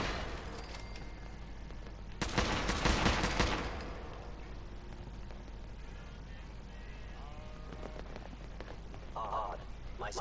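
Fallout 4 combat gunfire lands in a loud, dense burst of shots lasting about a second, then dies into quieter game ambience with a few faint sounds afterward.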